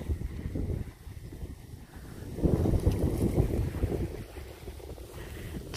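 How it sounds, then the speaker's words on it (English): Strong wind buffeting the microphone on an exposed Peak District hilltop, a steady low roar that swells louder midway and stays gusty to the end, with no voices. "It's very windy."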